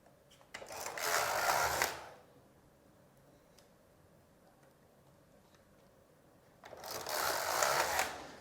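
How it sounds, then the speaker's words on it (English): The lock of a Passap Duomatic 80 double bed knitting machine is pushed across the beds twice, each pass a rough mechanical sliding whirr of about one and a half seconds, with a quiet pause between them. "Now take the lock across."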